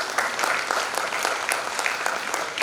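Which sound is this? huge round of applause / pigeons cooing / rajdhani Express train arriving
huge round of applause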